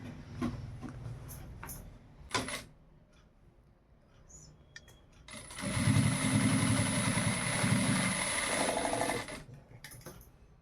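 A sewing machine stitching a pair of jeans during an alteration, a few scattered clicks and handling knocks, then a loud steady whirring run of about four seconds that stops abruptly, with no talking.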